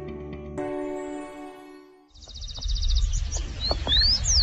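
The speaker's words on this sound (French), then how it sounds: "Nous sommes sur un petit chemin à travers champs, au milieu des oiseaux, vous l'entendez" Birds sing in open fields near Buenos Aires, Argentina: bright chirps and rising whistles over a low outdoor rumble, following a steady droning tone at the start.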